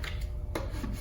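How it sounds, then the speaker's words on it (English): A squeegee is drawn firmly across a large multi-panel vinyl graphic, giving short dry rubbing and rasping strokes close by, with one sharper swipe midway through the second of sound. "last little squeegee on this little bit"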